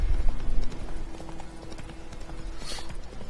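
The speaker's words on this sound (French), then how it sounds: "Allez, oui mon cheval. Il est beau, il est puissant, il est fort." A horse gallops in The Witcher video game, a steady rapid clip-clop of hooves on the ground at moderate volume, with a brief soft swoosh near the end.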